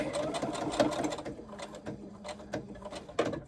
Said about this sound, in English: continue sewing over the edge of the tape to the end